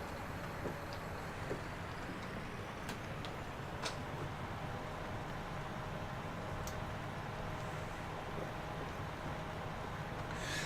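Tractor engine running smoothly in Farming Simulator 19, a constant low droning rumble held at even loudness throughout, with a few faint clicks and ticks over it and no voices.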